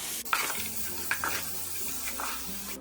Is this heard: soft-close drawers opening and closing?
no